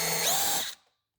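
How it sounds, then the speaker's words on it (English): Power drill countersinking two screw holes in a homemade front bumper for a Kyosho Ultima RC car, a close, loud, steady whir lasting under a second before cutting off abruptly. "I'm going to go ahead and countersink those 2 screw holes."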